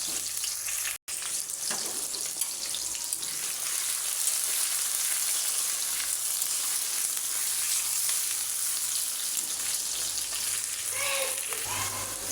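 Bay leaves broken into pieces and chopped onion fry in hot oil for a beef bhuna, a steady loud sizzle running throughout with a brief dropout near the start and a few faint clinks late on.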